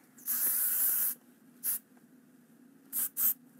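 Hair spray from an aerosol can during hair styling: one long hiss of about a second, then a short burst and two quick final bursts, close and alone.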